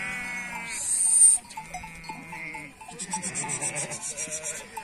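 Sheep bleat close by in a village pen at milking time, giving a few wavering calls over soft rustling and shuffling, with no talking.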